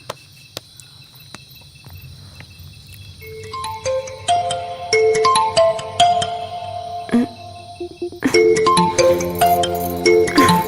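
A phone plays a melodic ringtone while an outgoing call connects, a run of bright electronic beeps that starts softly and grows louder and busier over a faint chirping background.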